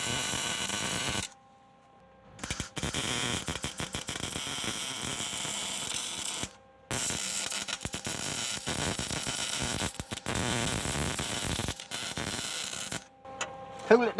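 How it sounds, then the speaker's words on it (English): Tack welding on the back of a 1976 Ford F100 during a restoration: a close, crackling, buzzing arc in several bursts broken by short silent gaps, with the last burst brief. "I'm gonna weld. I'll weld on the back."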